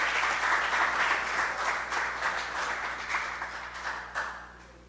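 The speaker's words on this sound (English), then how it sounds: "Give yourselves a round of applause." A full community hall audience at the Lambeau Multi-Purpose Facility in Tobago claps in thick, sustained applause that swells and eases, ending with a few scattered final claps.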